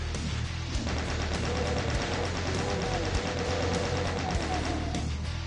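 Chaingunner enemies in Doom 2 fire continuous rapid bursts of gunfire, dense and loud throughout, with a steady rattling rhythm and no pauses.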